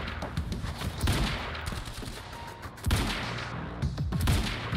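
Gunfire in the video game Quantum Break: repeated rapid bursts of shots with sharp impacts and heavier booms, dense and loud throughout, with no talking.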